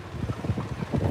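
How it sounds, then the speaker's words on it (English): Gusty wind buffeting a microphone outdoors on a busy city street, a steady low rumble with uneven puffs and swells throughout, close and fairly loud with no clear talk. "It is kind of windy though."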